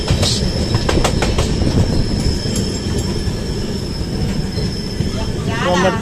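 A train from Mysore to Varanasi rumbles along the rails from inside a carriage, nearing a station, with rhythmic clacks, metallic squeals and a steady roar throughout.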